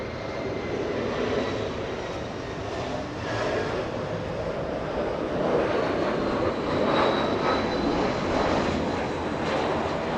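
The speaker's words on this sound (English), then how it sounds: "We have Speedbird 280, a 777 lifting off." A British Airways Boeing 777 lifts off at Los Angeles International Airport, its jet engines making a loud, sustained roar that swells slightly toward the later seconds, heard from a distance with no talk over it.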